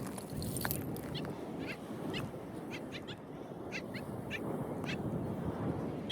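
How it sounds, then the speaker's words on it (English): Geese or ducks at a beach calling in a series of short honks and quacks, several birds at moderate distance over steady surf and wind noise. "There are the birds again."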